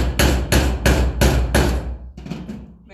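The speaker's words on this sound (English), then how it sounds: "And then keep hammering them in." A hammer drives a nail into wood for a DIY hanging planter, giving five loud, evenly spaced strikes close by and then a few lighter, quicker taps as the blows ease off.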